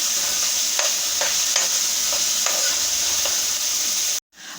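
Garlic, peppers and onions sauté in a pan with a loud, dense sizzle and occasional stirring scrapes, close and continuous before stopping abruptly near the end.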